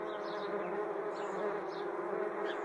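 Swarming wasps drone on without a break, a dense, close buzz with higher insect whines rising and falling over it, steady and alone with no voices.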